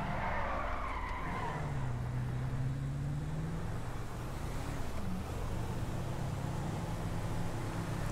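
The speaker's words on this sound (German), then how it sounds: "schöner Sportwagen, der hier an uns vorbeifährt" A sports car drives past in GTA V with a loud, drawn-out tire squeal that bends in pitch over a continuous engine and road roar. The sound stays close and fills the whole stretch.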